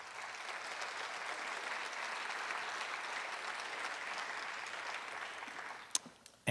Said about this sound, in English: could we have another round of applause for all of our staff that came out tonight?